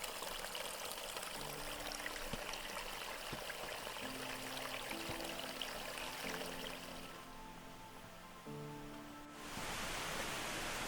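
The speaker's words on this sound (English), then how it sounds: "just this nice little stream right below us" A small mountain stream in a White Mountains pine forest flows just below, giving a soft, steady rush of water that continues without a break and stays faint and even.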